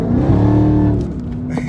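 Dodge Hellcat engine in traffic on a rainy day, a loud, deep sustained rev with a rising then easing tone, fading slightly at the end.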